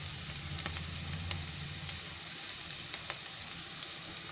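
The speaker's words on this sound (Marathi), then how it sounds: "हे कसं शिमला मिरची आहे ना चांगली शिजायला पाहिजे." Capsicum sizzling in a pan while cooking chicken Manchurian, a steady hiss with faint occasional pops and ticks, close and continuous, with no talking.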